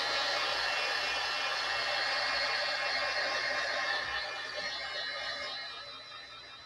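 A blow dryer runs continuously close by, drying something with a steady airy hiss that fades slightly toward the end, with no talk.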